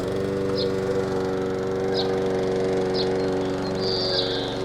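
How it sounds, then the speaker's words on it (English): A lawnmower runs continuously nearby with a steady, buzzing engine drone, while faint bird chirps break through now and then. "Whatever is that fearful racket?" "That is only the lawnmower."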